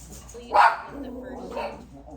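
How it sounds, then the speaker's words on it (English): Dogs bark indoors, two sharp barks about a second apart, the first louder than the second, mixed in with a person talking. "Hang on, my dogs are barking."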